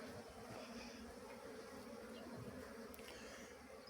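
Honeybees buzzing around a hive whose entrance lacks a landing board: a steady, continuous hum of many insects, close and even in level throughout, with no voices.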